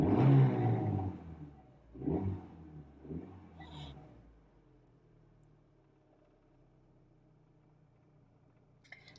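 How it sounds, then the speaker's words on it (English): An 80s Proton Saga engine revs from inside the cabin, with a loud first swell followed by two or three shorter, quieter blips that settle to a low, subdued idle. "give it a little rev so you can hear what I'm talking about"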